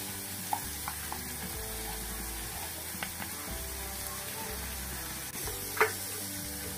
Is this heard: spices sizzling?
yes